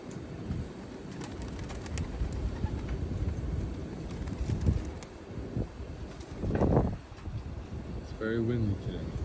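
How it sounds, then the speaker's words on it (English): Strong afternoon wind buffets the microphone with a constant roar and gusty rumble, as pigeons coo faintly at the end and a voice talks underneath. "It's very windy today."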